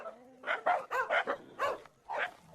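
Several dogs, brought in to meet their first tiger in the Sundarbans, let out a run of close, moderately loud barks and yips in quick irregular bursts, with a brief pause before one last bark.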